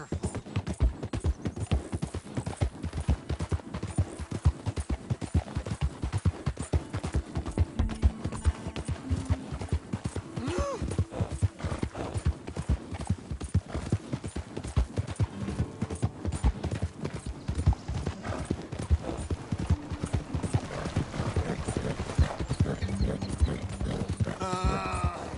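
A horse in Red Dead Redemption II runs with rapid, steady hoof clip-clops close by, a continuous rhythmic drumming that lasts the whole stretch with little else over it.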